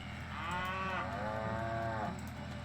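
Cattle in the farming game Farming Simulator 2011 give a long, drawn-out moo that rises and falls over a steady low engine drone, with no talking.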